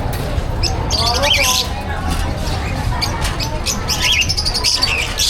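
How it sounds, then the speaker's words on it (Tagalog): Many birds at a pet market in Grotto, with chirps and squawks scattered through a busy crowd hubbub and steady background noise, some calls close and others farther off. "Dami ibon dito."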